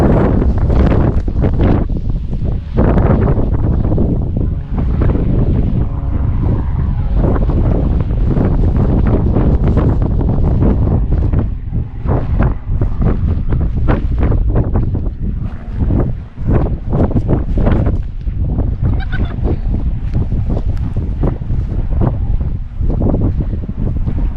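Strong wind roars into the microphone in the Yorkshire countryside near a village and heather moorland, a loud, continuous blustery rumble with gusts that never let up and no talking over it.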